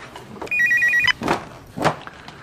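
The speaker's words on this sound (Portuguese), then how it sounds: "Melhor atender, né, Zizi?" A telephone rings indoors at night in a Brazilian drama: one short electronic trill, followed by a couple of soft thuds or footsteps in a quiet room.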